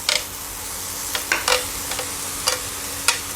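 Long beans stir-fried in hot oil, a soft continuous sizzle with a handful of sharp spatula scrapes and taps spaced through it, close by.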